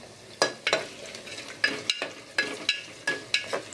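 Bay leaves and green chillies frying in a pan for pulao, a steady sizzle cut by about a dozen sharp, rhythmic stirring scrapes and clinks from a spoon against the pan, close up, with no talking.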